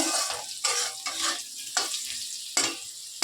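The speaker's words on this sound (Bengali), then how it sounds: "আর এই যে আলু একটু কালো জিরে ফোড়ন দিয়েছি" Potatoes frying in hot oil with a nigella seed tempering in a home kitchen pan, a soft steady sizzle broken by several scraping stirs of a spatula, close and fairly quiet.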